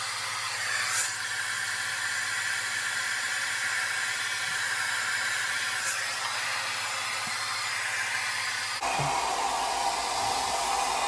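A Shark hair dryer blows in a steady, loud, close whoosh while hair is styled for a quick refresh and added body, its tone shifting abruptly near the end as the setting changes.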